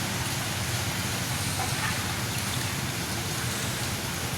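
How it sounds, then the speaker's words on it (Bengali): Steady rain falls in a dense, even hiss that stays constant from start to finish, with no voices. "একটু ভালোই লাগছে যে বৃষ্টিটা পড়ছে"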